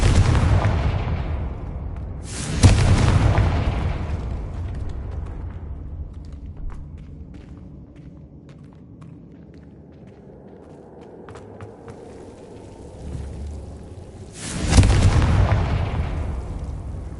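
Fire spells cast in a wizarding video game burst in two big booming blasts, one early and one near the end. Between them a low rumble fades, with faint scattered clicks and light footsteps.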